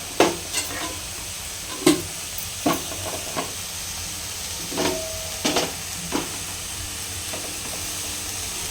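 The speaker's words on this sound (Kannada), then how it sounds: "ಕ್ಯಾಬೇಜ್ ಬೇಯಗಂಟ ಚೆನ್ನಾಗಿ ಫ್ರೈ ಮಾಡಿಕೊಂಡ್ರೆ ಕ್ಯಾಬೇಜ್ ಪಲ್ಯ ರೆಡಿ" Cabbage palya fries in a pan with coconut and spices, a steady sizzle running underneath while a spoon stirs and scrapes at irregular intervals, producing sharp clattering ticks over the hiss.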